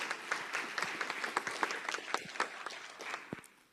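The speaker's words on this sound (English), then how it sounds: "So please give her a round of applause," Audience in a classroom-style presentation on assistive technology applauds a presenter, moderately quiet scattered clapping with distinct individual claps that thin out toward the end.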